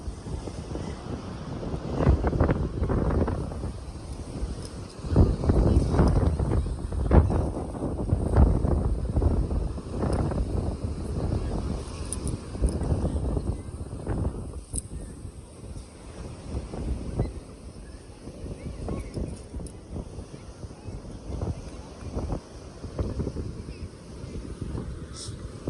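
Strong wind gusting across the microphone at a beach at Mickler's Landing, a constant low rumble and buffeting with surf in the background, strong enough to knock over an umbrella; muffled voices break through now and then.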